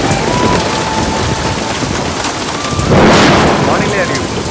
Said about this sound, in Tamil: கனமழை இன்னும் நீடிக்கும்